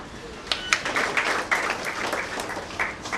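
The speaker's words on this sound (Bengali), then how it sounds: "আসুন আমরা দাঁড়িয়ে এই নিবেদিত প্রাণ মানুষগুলোকে হাততালি দিয়ে" An audience at a report launch applauds dedicated people, a moderately loud burst of scattered hand claps with a few sharp accents, fairly close and continuous for a few seconds.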